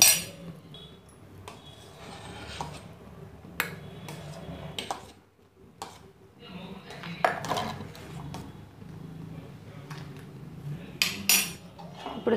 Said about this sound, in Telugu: ఇప్పుడు మూత తీసేసి స్టవ్ని సిమ్లో పెట్టాలి.